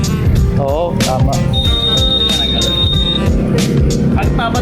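A Honda PCX160 keyless scooter's alarm sounds a steady, thin high-pitched tone for about two seconds while people talk loudly nearby.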